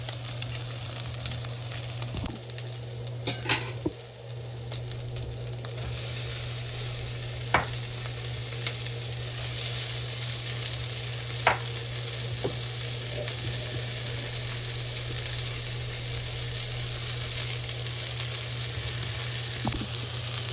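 Garlic, cumin, pepper and red onion sizzle steadily in a pot, with a constant low hum beneath and occasional sharp scrapes and knocks from stirring, close and alone without talk.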